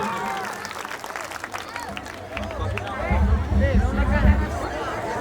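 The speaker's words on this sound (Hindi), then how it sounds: "ये प्रहसन अपने सबके नीक लगले देखबे ताली बजा दी सब गोटे" Stage comedy show audience clapping after a skit, mixed with crowd chatter and a voice over it, the applause swelling louder and denser toward the end.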